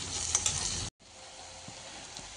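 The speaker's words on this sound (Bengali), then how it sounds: "পেঁয়াজ আর রসুন একটু একটু বাদামি কালার হয়ে ভাজা হয়ে গিয়েছে।" Onion and crushed garlic brown in a frying pan with a bright, close sizzle that cuts off abruptly, then resumes more quietly as a soft hiss with an occasional light stir.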